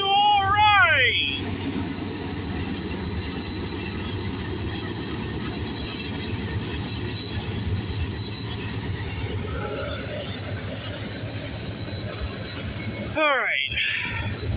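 A CN freight train with a mid-train DPU locomotive rolls steadily past at trackside on a rainy morning, a loud continuous rumble of wheels and cars, with a horn-like tonal burst at the start and another near the end.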